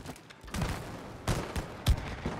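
Video game gunfire, a rapid fusillade of shots with sharper bursts standing out over a steady bed of game noise.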